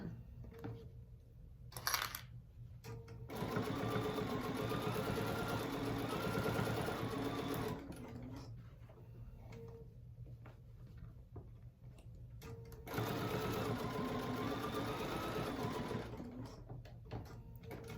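A sewing machine runs two bursts of basting stitches along a crochet needle case about 1/8 inch from the edge, the steady motor hum and needle chatter near and loud, with a quieter pause between runs.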